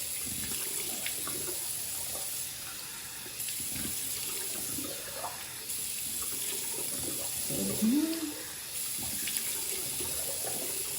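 A tap runs steadily into a sink for rinsing, a continuous close hiss of flowing water with occasional splashes as hands move under the stream.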